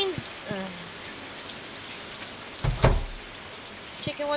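Rain falls steadily in the game Stardew Valley, a constant hissing patter running throughout, with brief chirpy game sounds and a short thump near the end.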